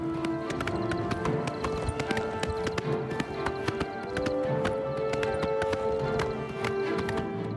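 Horse hooves gallop in Oblivion Remastered, a loud, rapid, steady clip-clop over game ambience and music.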